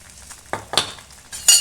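A spoon stirs mango pachadi with water, salt and turmeric in a pan, giving a few scattered scrapes and clinks over a faint background sizzle, with a louder scrape at the end.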